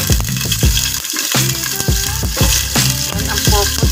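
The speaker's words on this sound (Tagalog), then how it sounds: "Iprito muna natin yung ating papaya para hindi siya malasak o maduro." Papaya pieces fry in a pan before being added to chicken adobo, with a loud, dense sizzle and repeated sharp utensil clanks and scrapes against the pan, close up and without talking.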